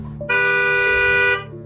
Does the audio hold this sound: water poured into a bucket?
no